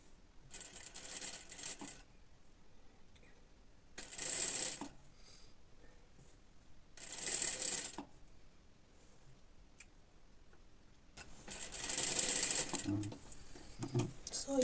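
Sewing machine stitching around an inset yoke seam without backstitching, running in three short bursts separated by quiet pauses, with a voice talking between them.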